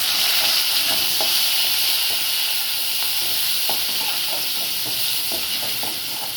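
Crushed garlic and curry leaves frying in hot oil, a steady bright sizzle and hiss with small pops and occasional stirring clicks, close up and continuous.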